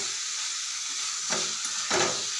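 Cauliflower, potato and fish curry bubbling and frying in a pan gives a steady close sizzle, broken by two short scraping stirs near the end.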